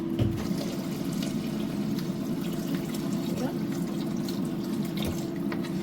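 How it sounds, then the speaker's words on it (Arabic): Water poured into a pot of rice, a steady rushing stream that runs unbroken and fairly loud for the whole stretch, with a few light clinks of kitchenware on top. "هنبتدي نحط الميه"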